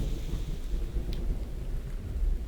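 Rain pours steadily in the survival game The Infected, a dense close hiss of falling water with a deep rumbling undertone, continuous and even with no talking.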